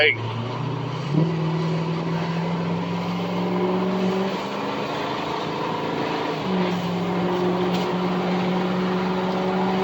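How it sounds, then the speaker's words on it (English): A turbocharged car with a faulty sensor causing major turbo lag accelerates from a dead stop, its steady engine drone rising in pitch through two gear changes, heard from inside the cabin. "from a dead stop, yeah, it has a major delay in the turbo"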